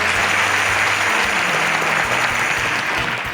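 An audience claps warmly for a spice band in a steady, close burst of applause, dense and even, lasting several seconds with no voices over it.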